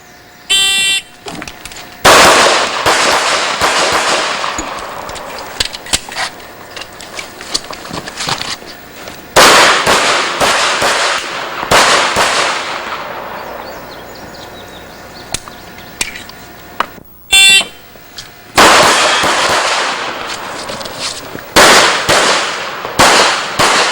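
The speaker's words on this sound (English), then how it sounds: "let's finish today's program with a demonstration of IDPA shooting" Handgun shots fired during an IDPA practical shooting demonstration come in loud, sharp bursts of rapid cracks, with quiet pauses between the strings of fire and a few isolated shots.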